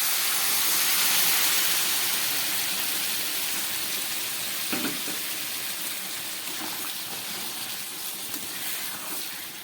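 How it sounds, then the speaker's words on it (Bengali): Warm water is poured into sizzling spiced masala for a dried lote fish curry, a loud burst of hissing steam that slowly fades to a softer bubbling sizzle, with a couple of faint clinks and no voices. "এবার দিয়ে দিচ্ছি উষ্ণ গরম জল"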